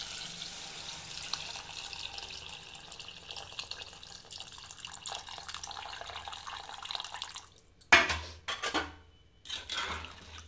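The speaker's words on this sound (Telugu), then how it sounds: "సో చింతపండు పులుసు అయితే వేసేసుకుందాం" Tamarind juice poured into a pan of simmering taro curry, a steady liquid pour running several seconds, then a few louder clinks and splashes of a utensil against the pan.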